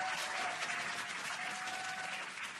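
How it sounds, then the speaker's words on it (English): Crowd cheering and applauding as a SpaceX Dragon capsule returns to Earth under drogue parachutes, a dense, steady roar of clapping and shouts filling the whole stretch without letting up. "You can hear the crowd here."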